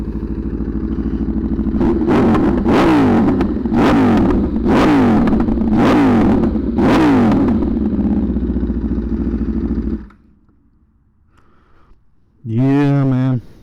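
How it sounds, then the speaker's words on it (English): A 2020 Aprilia RSV4 Factory V4 sport bike engine revs hard and close, six sharp throttle blips over a rumbling idle, then cuts off; after a short pause someone speaks briefly. "I'll give you guys a little cold start here"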